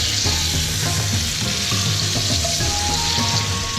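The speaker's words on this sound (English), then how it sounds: "you're going to take your steak and you're going to place it in the pan" A steak sears in a hot pan of foaming fat, a loud, steady sizzle and crackle that carries unbroken and close throughout, with no voices over it.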